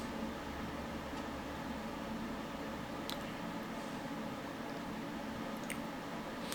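Steady hiss and static from an old Astor Mickey radio drifting between stations, with faint crackles and brief blips over a constant low noise floor.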